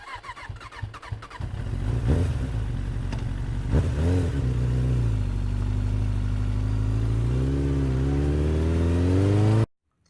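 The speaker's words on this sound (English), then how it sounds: "That sound is 摩托车," A motorcycle engine revs up from idle, climbing in pitch through a couple of throttle blips, then holds a steady loud drone before dropping back and cutting off abruptly, heard close with no speech.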